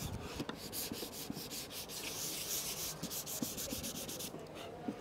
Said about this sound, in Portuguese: a lixagem deste móvel